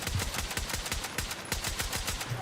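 A DMR rifle in Battlefield 6 fires a rapid stream of loud, close shots, about a dozen evenly spaced cracks in under three seconds.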